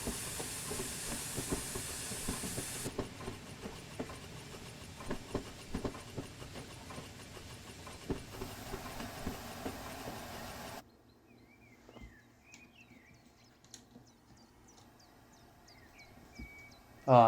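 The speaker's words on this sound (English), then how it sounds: "The simulated steam chest is brilliant." Steam chest hiss and rail clatter from an A4 Pacific steam locomotive in Train Simulator Classic, dense and continuous at first, then dropping to a quieter, sparser run with faint clicks and a sudden loud burst at the end.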